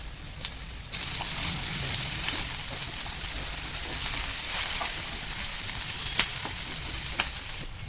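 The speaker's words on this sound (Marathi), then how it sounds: "आता आपण कांदा आणि टोमॅटो भाजून घेऊया" Onion and tomato dry-roasting in a pan at home for a puri bhaji meal, giving a steady, close hiss of sizzling with a few sharp clicks and stirring scrapes throughout, no talking.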